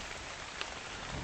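Heavy rain falling in the survival game Ark Survival, a steady dense hiss that fills the scene continuously, with a faint brief tap partway through and no voices.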